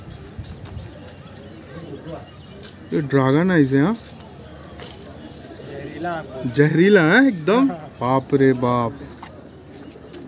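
Domestic pigeons of a deep-eyed Kolkata eye breed give soft, rolling coos in short bursts, close by, alternating with people talking loudly in Hindi.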